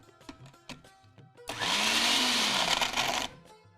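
A mixer grinder churns a thick instant cream cheese mixture in a cooking-show kitchen, a loud steady whir of about two seconds after a few light clinks and knocks, then cutting off.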